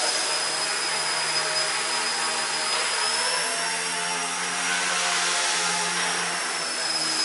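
A Blade MCPxBL RC helicopter runs at full throttle with its rotor near 6,000 RPM, producing a steady, loud, high-pitched whine and whirring buzz that holds unchanged throughout, close by and without talking.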